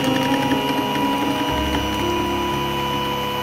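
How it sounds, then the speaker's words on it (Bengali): A kitchen blender mixes eggs, milk and sugar for an omelette, producing a steady, close motor whir with a clear drop in pitch partway through as the load changes. No one speaks. "ব্লেন্ড করে নিব ভালো করে।"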